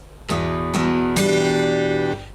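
An acoustic guitar plays the strumming pattern for a song on the first chord: three bright strums in quick succession, the last left ringing for about a second before being cut off, with no talking.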